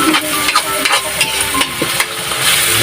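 Sisig is stirred in a hot frying pan, with a spatula scraping and tossing it in repeated strokes over a loud, continuous oily sizzle. No one speaks.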